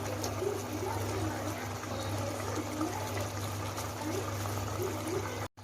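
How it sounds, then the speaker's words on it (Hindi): Chicken stock poured into a pot of yakhni pulao: a steady, close liquid pour and trickle lasting several seconds, then cutting off abruptly near the end. "अब हम इसमें स्टॉक ऐड कर देंगे।"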